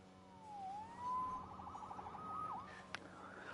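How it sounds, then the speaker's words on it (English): A police siren in the Marvel's Spider-Man video game wails with rising and falling tones, moderately close and steady, with a brief sharp click near the end. "Saved by the siren."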